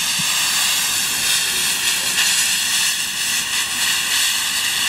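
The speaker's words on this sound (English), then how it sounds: "if we open this nozzle and try to light it up, then you can see the amazing gas that comes shooting out of there" Gas from a homemade water-gas setup hisses steadily from an open nozzle, a loud, continuous close-up rush with slight fluctuations throughout.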